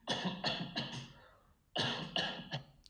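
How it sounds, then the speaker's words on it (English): Two clusters of harsh coughs, three or four quick bursts each, separated by a short pause, fairly close, played back from a recording. "we can quickly replay to check, and we start coughing"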